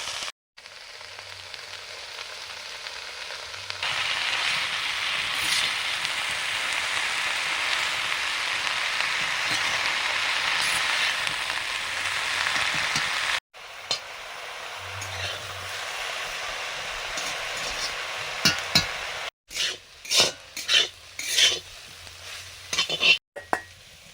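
Red amaranth greens with thick-cut stems fry in a pan with a loud, steady sizzle, joined by a brief second burst of sizzling and a few sharp clinks of utensils near the end.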